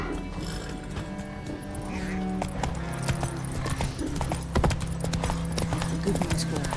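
A horse trots with a steady clip-clop of hooves in The Witcher video game, rhythmic and close, with a continuous music or ambient bed underneath.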